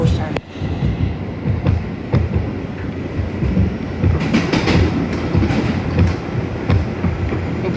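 An R211A D subway train rides the Sea Beach line toward Manhattan near Avenue S, a steady loud rumble of wheels on rail with rhythmic clacks and brief bursts of higher hiss through the car.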